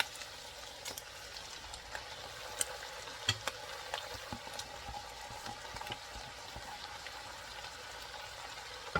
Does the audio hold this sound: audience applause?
no